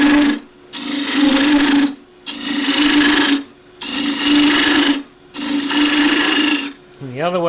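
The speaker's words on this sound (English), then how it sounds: "Really is a series of scooping cuts with the gouge." A lathe gouge takes repeated scooping cuts on a wooden mallet handle, four loud rasping bursts separated by short pauses over a steady lathe hum, with no voices.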